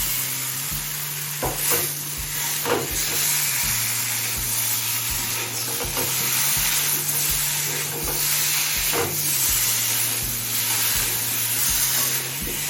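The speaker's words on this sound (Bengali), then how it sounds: "এবার ইলিশ মাছের মাথাটা দিয়ে দিচ্ছি" A hilsa fish head fries with elephant foot yam in a pan, a steady close sizzle and hiss with periodic spatula scrapes at a regular pace, no speech.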